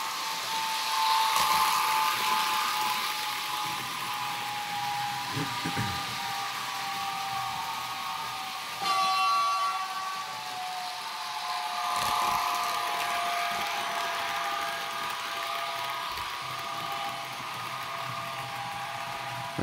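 A Roco BR 185 model locomotive with an ESU LokSound 4 decoder runs fast with a steady high motor whine and faint track rattle, the pitch holding level throughout, with occasional soft clicks.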